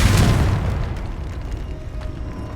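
A Confringo blasting spell explodes in the Hogwarts game, a loud burst at the very start that rolls into a decaying rumble with faint crackles, alone and without talk.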